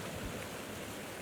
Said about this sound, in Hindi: बराबर में आपको कलकल करता हुआ झरने की आवाज़ भी आपको सुनाई दे रही